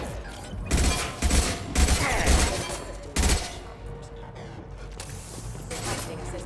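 Several heavy, high-impact gunshots in the video game Mass Effect 2, sharp loud bursts spaced about a second apart, followed by quieter combat noise.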